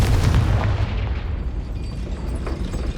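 Confringo and Depulso spell blasts in Hogwarts Legacy, a heavy booming impact at the start that decays into a rumbling tail, with smaller pops following.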